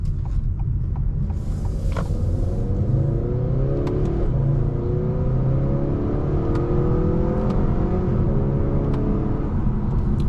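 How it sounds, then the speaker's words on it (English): A 2025 Acura TLX A-Spec SH-AWD engine accelerating from inside the cabin, a steady rising whir and drone that climbs through the gears over ten seconds, with faint mechanical creaks and clicks on top. "Quick engine response when you put your foot down"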